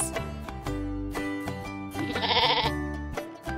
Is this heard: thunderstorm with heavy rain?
no